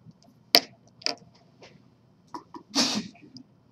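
A single sneeze sounds out close and fairly loud, preceded by a few soft clicks and sniffs during a quiet maths lesson.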